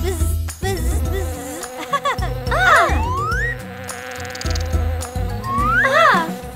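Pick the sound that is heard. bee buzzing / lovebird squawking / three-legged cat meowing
bee buzzing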